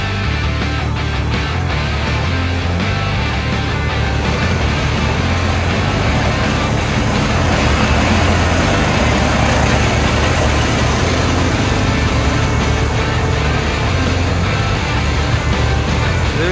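A Honda LE1700 stem and leaf processing machine clearing burdock foliage runs with a loud, steady engine drone and heavy vibration, continuous and close by with no pauses.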